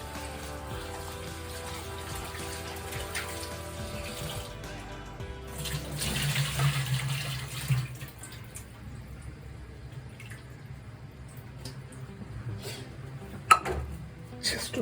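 Broccoli florets rinsed under a running kitchen tap, a steady wash of water into a sink with a few clinks and drips, a bit louder in the middle and tapering off toward the end.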